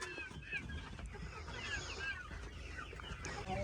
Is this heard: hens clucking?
yes